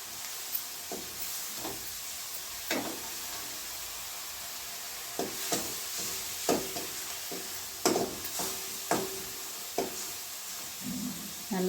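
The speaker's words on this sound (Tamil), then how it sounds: "பொடியை அரிஞ்ச கொஞ்சம் கொத்தமல்லி தழை அதையும் அதை கூட சேர்த்து நல்லா வதக்கி விட்டுக்கிடுவோம்." Ground onion paste and chopped coriander leaves sauté in a pan for a Chettinad-style chickpea kara kuzhambu, with a steady soft sizzle and repeated close stirring and scraping knocks throughout.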